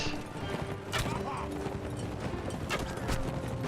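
Horse hooves pounding in a fast, steady clip-clop gallop during a medieval battle in Mount and Blade Warband, loud and continuous across the moment.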